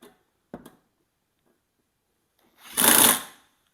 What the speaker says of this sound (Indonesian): Sekarang dengan impact press dengan mode A ya guys